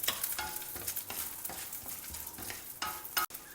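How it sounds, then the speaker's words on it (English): Urad dal and green chillis stir frying in oil in a pan, a continuous close sizzle broken by repeated scraping strokes of a spoon stirring, with no voices. "Add the Urad dal, also the green chillis, and stir fry them till the dals change color to a golden color."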